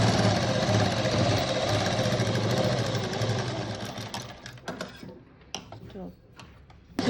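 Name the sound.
sewing machine stitching a boat neck blouse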